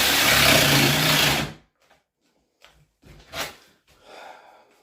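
A battery-powered cutter slices through a slot car track baseboard in one loud, harsh burst of about a second and a half, then cuts off to near silence broken by faint breaths and small handling noises.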